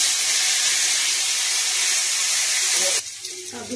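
Bottle gourd goes into a hot pan of blackened cumin, ginger paste, green chilli and cumin powder, giving a loud, steady sizzling hiss that drops away sharply near the end.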